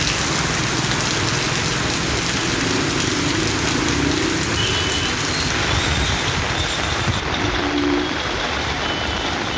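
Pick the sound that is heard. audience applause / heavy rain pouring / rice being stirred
heavy rain pouring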